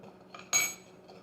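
A paddle is pulled out of an Elite Gourmet bread machine pan, giving a single sharp metallic clink with a brief ringing tail, preceded by a faint scrape, close and fairly quiet.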